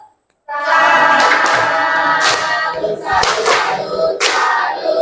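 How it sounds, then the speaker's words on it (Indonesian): An Indonesian classroom group claps together to applaud a correct answer: loud, close, rhythmic bursts of many hands in a patterned cheer, with short pauses between the clapped phrases. "Kasih tepuk salut"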